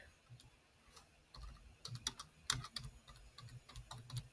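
Keys tapped on a computer keyboard in an irregular run of crisp clicks, starting sparse then quickening, close and fairly quiet against a soft background hiss.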